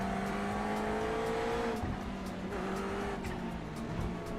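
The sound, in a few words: race car engine in a video game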